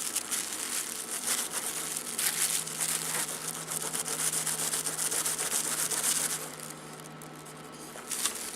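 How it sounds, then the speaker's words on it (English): A nail file rubs back and forth by hand against a small part, rounding it off during a Fangshi Shuangren CPM modification, giving a steady, close, continuous scratchy sanding with no pauses. "have the nail file right here, and just sand away"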